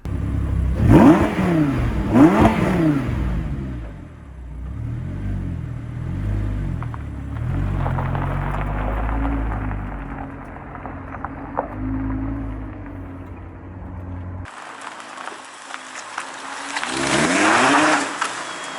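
An Audi R8 V10 Spyder driven on the road: the engine revs up in repeated rising sweeps, then settles into a steady hum while cruising gently, with a louder blast of wind and engine noise near the end.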